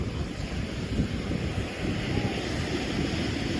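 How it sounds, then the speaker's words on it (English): Waves wash continuously onto a beach with a rough, steady roar, mixed with wind buffeting the microphone throughout. "Another great day at the beach."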